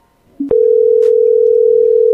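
After a brief click, a steady telephone dial tone drones loud and continuous once a call drops out during a live show.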